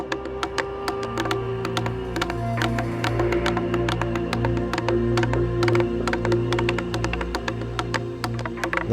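Women beat tapa bark cloth (tutu ngatu) in Tonga, with a fast, irregular stream of sharp wooden mallet strikes over a steady tonal hum that continues throughout.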